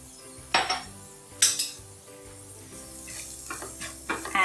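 Curry powder and pepper are sautéed in a pan for Singapore chicken fried rice: a light sizzle runs under several sharp clanks of a utensil against the pan.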